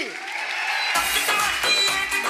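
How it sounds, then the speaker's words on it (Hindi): Loud applause breaks out at a live event after a short moment of music-like tone, continuing as dense clapping with a few cheers and rhythmic thumps. "इनके लिए जोरदार तालियां बनती कि नहीं बनती?"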